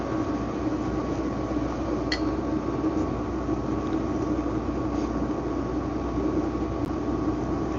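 A heater hums steadily in a cold garage, a constant mid-level drone with no pauses, with a faint tap or two over it and no talking.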